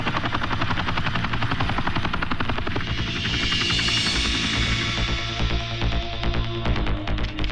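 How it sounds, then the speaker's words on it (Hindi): A helicopter lands on a hotel lawn in a film scene, its steady, loud rotor chop and turbine roar filling the whole stretch without a break, with no voices over it. "होटल के लॉन के सामने एक हेलीकॉप्टर उतर रहा है।"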